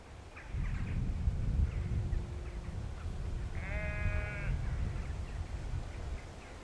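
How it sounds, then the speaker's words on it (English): Sheep bleat across a wide Swaledale field, one clear wavering bleat standing out over the broad low rumble of wind and distant flock noise, with fainter calls scattered around it. "And it is literally sheep as far as the eye can see."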